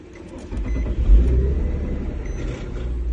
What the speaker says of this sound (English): Car's on.